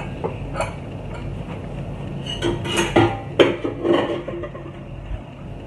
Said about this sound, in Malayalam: അപ്പോൾ നമുക്ക് കുക്കർ തുറന്ന് നോക്കാം.